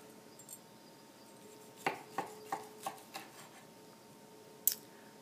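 A knife slicing through bacon-wrapped chicken thighs on a board, a quick run of five crisp, evenly spaced cuts close by, then one sharper clink of the blade.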